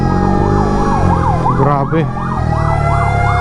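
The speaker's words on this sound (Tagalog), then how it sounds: "Napakaraming ambulansya. Parada ng ambulansya." Sirens wail and cycle loudly from a parade of ambulances passing close by on a road in Infanta, Quezon, with a brief word from a man in the middle.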